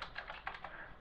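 Keystrokes on a computer keyboard as a command is typed while writing a Java program, a quick irregular run of close, crisp clicks with no talking.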